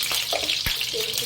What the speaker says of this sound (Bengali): কড়াই গরম হয়ে গেছে, আমি তেল দিয়ে দিচ্ছি